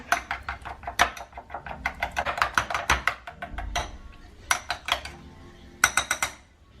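Chicken breast avocado salad is stirred in a bowl, giving a steady run of close, sharp clinks and taps of utensils against the dish in irregular rhythm, with a voice briefly talking over it.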